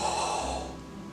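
A person imitates Darth Vader's breathing with the voice, a single close, raspy, hissing breath that fades out over about a second, with no words spoken.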